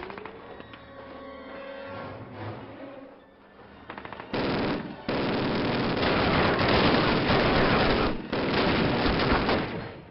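Machine gun suppressing fire in the 2003 Call of Duty video game, long sustained loud bursts of rapid automatic gunfire with brief gaps, following quieter battlefield noise at the start.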